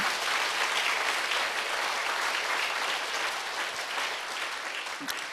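A church congregation at a Korean Sunday service claps together in praise, a continuous dense wash of applause from many hands lasting several seconds, fairly loud and even.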